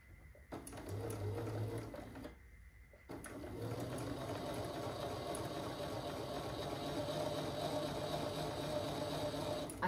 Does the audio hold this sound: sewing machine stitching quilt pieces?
yes